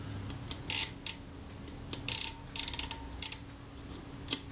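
A Kodak Retina II camera's shutter release mechanism is worked by hand, giving a series of small, close mechanical clicks and snaps, some in quick clusters, separated by quiet gaps.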